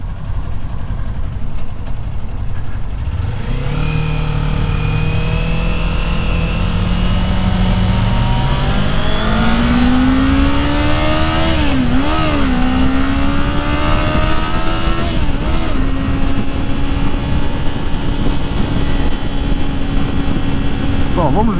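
A 2022 Kawasaki Ninja 400 motorcycle on a test ride, its engine droning loudly and steadily throughout, with pitch rising and falling as the rider works through the gears.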